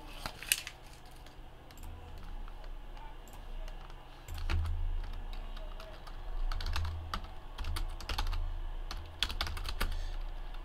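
Rapid typing on a computer keyboard, close and fairly quiet, with bursts of sharp key clicks and brief pauses throughout.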